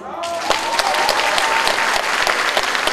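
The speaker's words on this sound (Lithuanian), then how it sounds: "Danguoliai plojimai." An audience at a Lithuanian cultural celebration breaks into dense, loud applause, many hands clapping in a steady sustained patter with a few sharper claps standing out, close to the listener.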